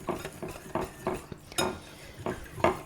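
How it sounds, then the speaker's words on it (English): Dry vanilla cupcake ingredients being whisked in a bowl, a run of rhythmic scraping, clinking strokes at close range, steady and fairly quiet with no talking. "Just give that a little bit of a whisk through to make sure that everything's combined really nicely."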